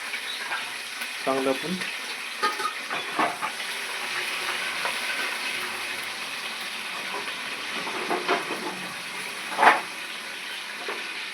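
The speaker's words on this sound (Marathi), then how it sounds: "कढीपत्ता आणि मिरची टाकणार डायरेक्ट." Curry leaves and green chillies sizzle and crackle steadily in hot oil for a quick puffed-rice snack, with scattered pops and stirring scrapes; a person speaks briefly over the frying.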